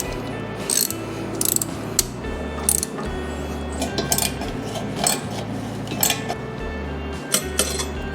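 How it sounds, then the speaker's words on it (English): A hand ratchet tightening carburetor intake manifold bolts on an engine, close rapid clicking in repeated bursts with pauses between strokes, alone without talk. "Now let's tighten down these manifold bolts."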